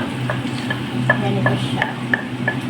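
Liver sautéing in a pan, a steady sizzle and low cooking hum with a few light stirring taps and clinks scattered through it, close and moderately loud, with no talking.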